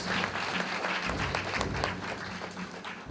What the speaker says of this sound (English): Could we give her another round of applause